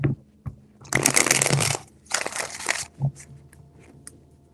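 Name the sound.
shuffling tarot cards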